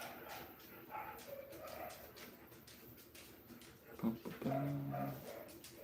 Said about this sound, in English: I can hear the puppies outside barking.